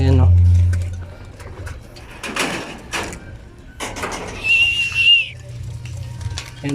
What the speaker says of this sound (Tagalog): Tara, lipat na natin sila mga kalapatids.